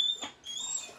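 A police dog whimpers close by, high thin whines in two short stretches separated by a brief pause, with no talk.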